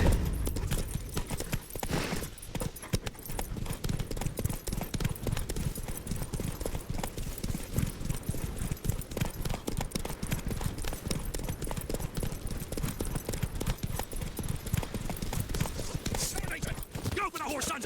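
Horse hooves galloping in The Witcher 3, a fast steady clip-clop that runs loud and close throughout, with voices talking over it.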